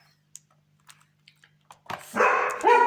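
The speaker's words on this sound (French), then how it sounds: "Pardon pour le chien qui aboie." A dog barks indoors, a few quick sharp yaps building to louder, closer barks at the end, after a stretch of faint tapping and clicking sounds.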